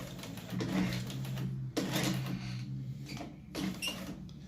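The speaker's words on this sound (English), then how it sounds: "now I'm going to sew past by 5, and using the exact edge guide and the same control system" A sewing machine fitted with a swing-down edge guide stitches an overlapped tack, giving a close, steady mechanical whir with a low hum and short bursts of clatter that start and stop.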